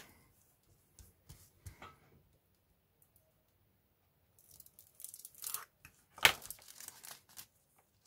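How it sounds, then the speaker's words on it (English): Sealed plastic packaging around a photo-etch sheet from a 1/35 IBG Models 7TP Polish tank kit is cut open close up, giving faint scattered ticks and then a cluster of sharp crinkling and tearing bursts near the end. "it is sealed up, so I have to cut into this."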